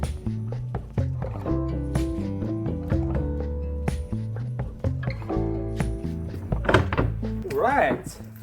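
A wooden door being hung on its hinges on a French farm hen house: a series of hollow thunks and knocks, with someone talking throughout and a brief creak near the end.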